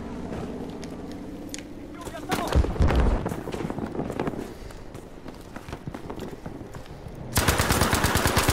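Sniper and automatic gunfire from a Battlefield 5 Breakthrough match, with repeated sharp shots and a dense loud burst near the end, mixed with game action and a voice talking over it.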